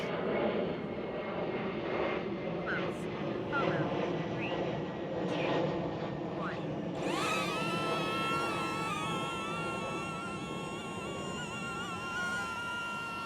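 A DJI Neo drone flies in follow mode with a steady, high-pitched propeller whine throughout. The pitch rises and wavers partway through as the drone climbs and tracks its operator outdoors, and a person speaks faintly under the buzz.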